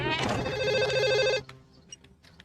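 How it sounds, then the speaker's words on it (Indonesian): A telephone bell rings loudly and close for about a second and a half in an Indian drama film scene, then stops, leaving faint background sounds. "Tiba-tiba suara telepon berdering."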